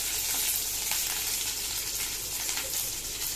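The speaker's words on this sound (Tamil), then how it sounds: "இதோட கொஞ்சம் கருவேப்பிலை இலை போட்டுடலாம். இதெல்லாம் பொரிஞ்சிருச்சு." Curry leaves frying in hot oil in a kadai give a steady, close, loud sizzle and crackle with no voices over it.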